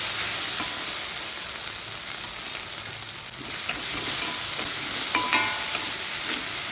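Tomatoes being stirred in a frying pan with ivy gourd (tendli) vegetable, a steady close sizzle with scraping spoon strokes and occasional clinks, no one speaking.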